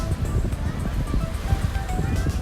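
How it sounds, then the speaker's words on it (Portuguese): Ocean waves wash over a coral reef at the natural pools of Porto de Galinhas, a steady roaring surf with wind noise. A voice talks over the water. "as ondas ultrapassam a barreira de corais"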